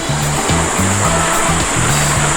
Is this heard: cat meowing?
no